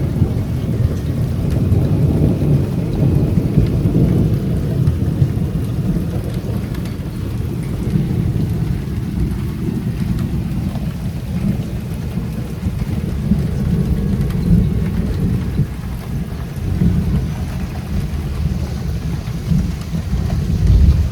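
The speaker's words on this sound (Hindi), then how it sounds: "बाहर एकदम झमाझम पानी गिर रहा है। अरे बाप रे, आवाज़ सुनाई दे रही है? बिजली कड़क रही है बहुत तेज़।" Heavy rain roars steadily throughout with deep rumbling thunder rolling underneath, a dense, continuous storm with no voices.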